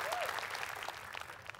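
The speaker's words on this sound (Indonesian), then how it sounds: "Kasih semangat dan tepuk tangan." Quiz show contestants in a word-finding game get a short, soft burst of studio applause, a steady patter of many hands that stays fairly faint throughout.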